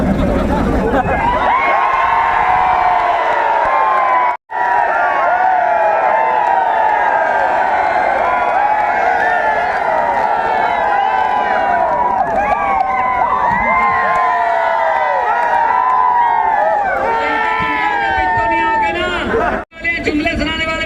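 A large political rally crowd screams and cheers continuously for about twenty seconds. The roar is loud and sustained, with shouting, whistles and applause, and only two brief dips.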